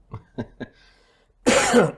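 Three short, close throat-clearing coughs in quick succession, a brief pause, then a louder, harsher cough.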